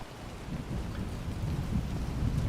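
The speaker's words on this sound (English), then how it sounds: "So I appreciate the thunder in this game." Low rumbling thunder rolls continuously beneath steady rain in the video game Wolfenstein: The New Order, a dense, moderately loud storm bed with no voices.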